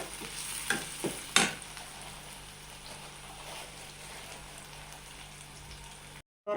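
Cashew nuts tipped into a hot pan of frying oil, with a few sharp clattering drops near the start and a steady sizzle that carries on until it cuts off near the end.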